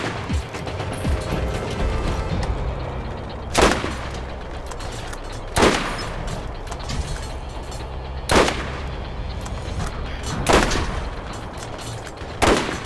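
Gunfire in the video game Borderlands, with sharp, loud single shots cracking out every two or three seconds over a busy background of mechanical clatter and low rumble.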